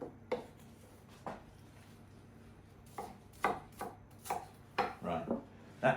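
A knife chops onion finely on a board. The sharp taps come unevenly at first, then quicken into a dense burst of strokes near the end. The cutting is close and quiet, with no talking.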